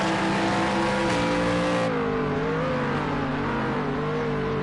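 FIA GT3 race car engines roar in Project CARS 2 during qualifying, several cars droning loudly and continuously with shifting pitch as they run close together, a Renault among them.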